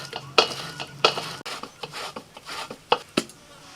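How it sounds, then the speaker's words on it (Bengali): Pulp is scraped from a palmyra palm fruit kernel in short, uneven rasping strokes, close and fairly loud, with small knocks between scrapes. "এই একইভাবে বাকি দুটোকেও চেঁচে নেব"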